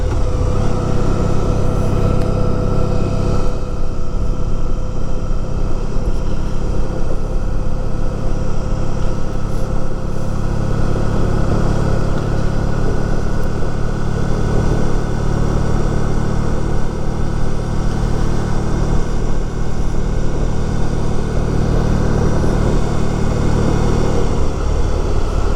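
A classic motorcycle ridden along wooded back roads near Riverhead, its engine droning steadily throughout with constant wind rush, a slight rise in pitch early on, close and continuous with no talking.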